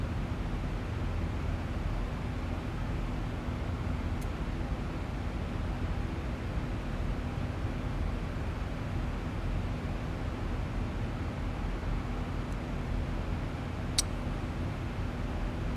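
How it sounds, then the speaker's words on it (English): Boeing 737-800 jet engines in the X-Plane 12 flight simulator give off a steady, even broadband rumble and hiss with a faint constant hum and no talk; a couple of tiny clicks come through near the end. "Just the noise of the aircraft engines"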